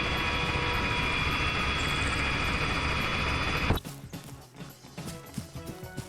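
A loud, steady video game helicopter rotor drone fills the first few seconds, then cuts off abruptly, leaving quieter clattering and scattered thumps.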